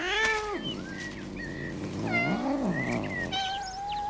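A domestic cat meows loudly several times in drawn-out, wavering calls that rise and fall, close and clear with no talking.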